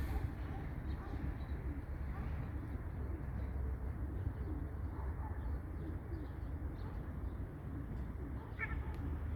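Racing pigeons in a loft giving low, soft coos that blend into a constant rumbling background hum, fairly faint and continuous with no clear pauses.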